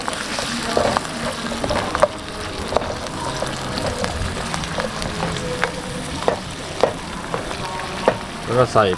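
Stewed pork and chili stir-fried in a hot pan, a loud continuous sizzle with repeated scraping and clattering spatula strokes throughout.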